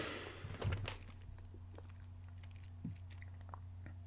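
Faint, soft chewing of dark chocolate close to the mic, with a few small crunchy bites near the start over a steady low hum and no talking.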